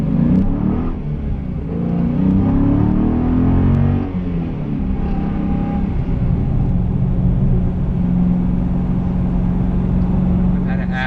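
A 2016 Dodge Challenger Scat Pack V8 burbles with a deep, loud rumble, swelling briefly as it revs before settling into a steady low drone. Someone talks over the engine throughout.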